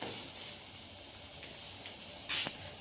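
Garlic and spices fry in a pan for fenugreek rice, giving a steady low sizzle with a few soft stirring scrapes and one brief louder clatter near the end; no talking.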